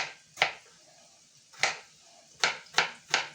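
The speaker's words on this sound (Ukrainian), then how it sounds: "Кубиками кришу" Sharp knife chops on a cutting board dicing an onion, a single cut, a pause, then a quick run of three cuts, close and crisp.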